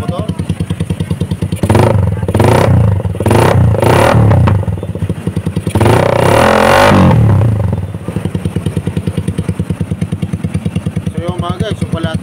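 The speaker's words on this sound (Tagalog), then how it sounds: "bubombayin natin yung motor" A Suzuki Raider Gen 1 motorcycle with an aftermarket exhaust is revved hard at close range, several sharp blips and one longer rising roar breaking out of a loud, rapid idle burble.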